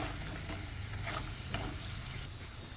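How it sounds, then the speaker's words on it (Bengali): Egg and flour pitha fry in a pan over low heat, giving a steady, close, soft sizzle with a few light stirring scrapes and no talking. "পিঠাটাকে সুন্দর করে ভেজে নিব।"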